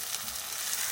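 Brief, close, even sizzle of garlic ginger paste frying with onions in a pan for an egg brain masala, a hissing crackle with no pauses and no voices.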